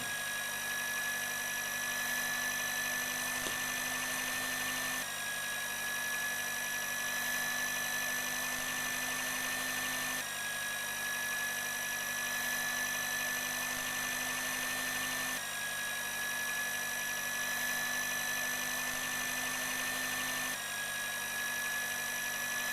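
An electric beater mixes vanilla sponge cake batter after sugar is added, giving a continuous, even motor hum with a steady whine. It holds constant for over twenty seconds with no talking.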